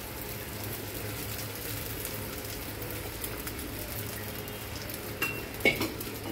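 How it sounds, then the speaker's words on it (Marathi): Soaked sabudana tapioca pearls fry in a pan with roasted ingredients, making a moderate, even sizzle with light stirring, and a couple of sharper utensil clinks against the pan near the end. "यामध्ये आता मी साबुदाणा टाकत आहे, भिजवलेला साबुदाणा टाकत आहे"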